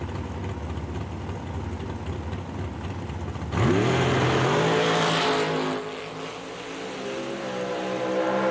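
A Shorty dragster called the Land Shark races at a drag strip. A low rumbling idle gives way to a sudden loud launch, and the engine roars with rising revs, then fades into a distant engine drone.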